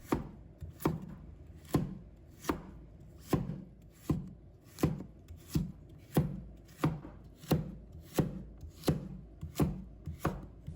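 A knife chops a carrot into diamond-shaped slices on a board, about fifteen crisp, evenly spaced strokes at a steady, unhurried rhythm, close and clear with nothing else in the background.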